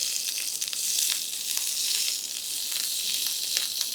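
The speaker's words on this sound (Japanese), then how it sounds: "まず皮を焼きます。" Yellowtail fish skin sears in a hot pan with a steady, loud, close sizzle and crackle that continues without pause and with no voices over it.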